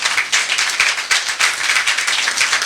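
A wedding congregation claps rhythmically to acclaim the Lord, loud and close, a steady pulse of many hands in unison without speech.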